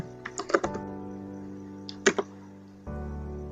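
A name typed on a computer keyboard: a quick burst of several key clicks, a pause, then a couple more taps, crisp and close in a quiet room with a low steady hum.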